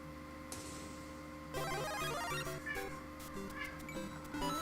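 Cat meowing, with a few mewing calls mixed into bright, tinkling electronic game music and chime-like tones, all at moderate loudness.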